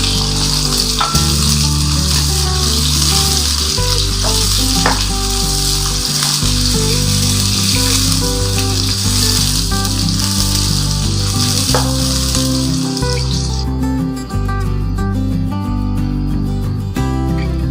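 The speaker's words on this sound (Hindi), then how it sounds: "अब मैं इसमें ये प्याज डाल दूंगी कटे हुए। तो लाइट ब्राउन करूंगी।" Chopped onions frying in a pan until light brown for a mince and white bean dish, a loud, steady sizzle that runs unbroken with occasional stirring scrapes and no talk.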